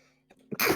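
A single short sneeze, sharp and fairly loud, bursting out after a brief quiet breath-like intake.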